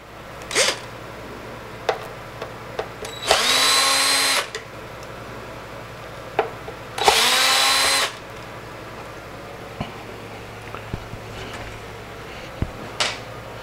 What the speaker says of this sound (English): this is the circuit board or the power supply for the turntable and there's two screws in it. So you're basically going to loosen those up